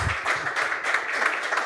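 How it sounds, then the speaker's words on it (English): Applause from a conference audience for a speaker at a blockchain talk, brief, dense and even, with many hands clapping together at close range. "Let's give a round of applause for Sebastian."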